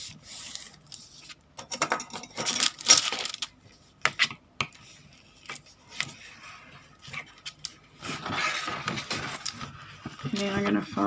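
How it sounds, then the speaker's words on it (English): A paper file folder being folded by hand along its score lines, heard as close, intermittent crinkling, rubbing and creasing noises in uneven bursts, with quiet spells between them. "The first thing I'm going to do is just fold along these score lines."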